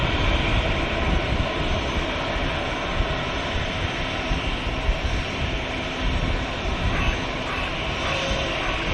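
An aircraft taking off from the Manchester Airport runway, a loud continuous engine roar filling the air, with faint voices beneath it.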